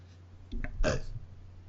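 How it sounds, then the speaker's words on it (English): A single short, guttural burp sounds close to a microphone, a brief throaty croak over a low steady hum, with no talking. "now you people heard my burp"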